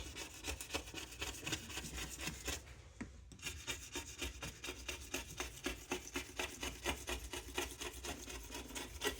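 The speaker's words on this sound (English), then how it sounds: "I'm scratching this off" Scraper dragged across a glass cooktop to lift off baked-on residue, rapid rhythmic rasping strokes, close and steady, with one short pause midway.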